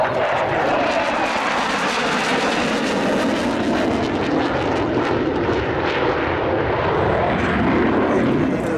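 An aircraft comes in to land at an air show, its engine roar loud and sustained with a slowly shifting pitch as it passes near, then fades slightly.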